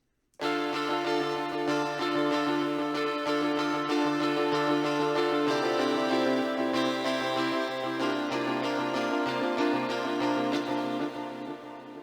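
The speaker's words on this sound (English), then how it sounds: "So the guitars with the effects on them sound like this." Dense shoegaze electric guitars with distortion and delay effects ring out in a washy, sustained wall of sound with echoing delay, shifting chords partway through, no vocals.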